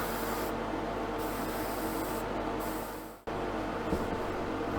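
An aerosol can sprays paint onto a plastic model car body of a Jaguar E-Type, a close, continuous hiss that cuts off abruptly partway through and then starts again.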